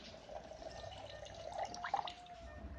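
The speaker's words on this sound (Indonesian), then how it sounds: "Ini 2 bungkus santan, tambahkan air" Water poured into coconut milk while preparing bareh randang, a sweet rice-flour snack from Payakumbuh, West Sumatra, with soft trickling and a few dripping splashes close by over a faint background hum.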